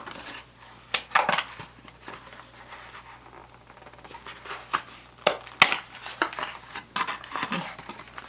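Close crinkling and rustling of a Saxenda injection pen package being opened, with sharp clicks and tearing snaps scattered through a quiet room.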